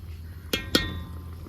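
Two light metallic clinks of a utensil against a cooking pot while stirring vegetables for veg biryani, spaced a quarter second apart over a quiet kitchen background.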